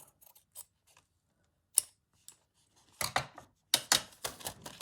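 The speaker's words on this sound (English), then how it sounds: "Let me just trim that off." Scissors trim calico fabric at a crafting table, with a few scattered light snips early on, then two louder bursts of close, crisp cutting near the end, no talking.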